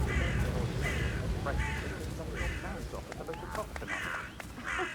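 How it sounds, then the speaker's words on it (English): Crows caw repeatedly in the video game Hitman 3, a series of harsh squawking calls in short bursts over a dense ambient background, with a voice talking at moments. "I'll never get rid of those stupid birds"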